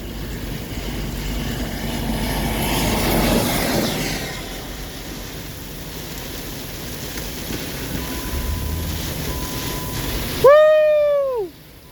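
Strong wind gusts roar through a line of severe storms in Searcy, Arkansas, with gusts near 40 mph. A broad, rushing noise swells and eases for the whole stretch, and a brief rising-and-falling whistle cuts in near the end.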